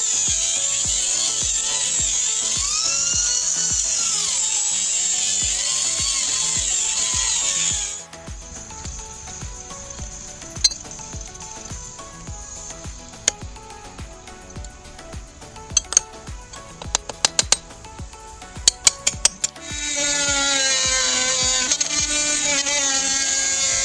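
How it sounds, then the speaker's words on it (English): An angle grinder whines at high pitch, runs steadily, then drops away into a stretch of clanks and knocks before spinning up again for another loud cut. "It's Dad's new toy. It's his angle grinder."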